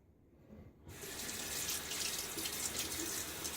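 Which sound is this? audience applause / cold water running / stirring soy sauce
cold water running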